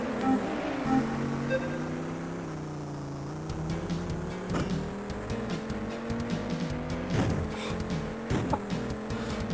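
An engine-upgraded buggy with bigger tyres races in arcade mode on a canyon course in an Amiga game, its synthesized engine droning steadily with rising and falling pitch and punctuated by skids and impacts, with no talk.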